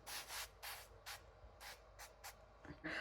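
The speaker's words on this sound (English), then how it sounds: "we're gonna spray it again with some of my olive oil spray here" Short bursts of olive oil spray hiss over food in an air fryer, about eight quick pumps in an irregular rhythm, close and fairly quiet, with a faint clink near the end.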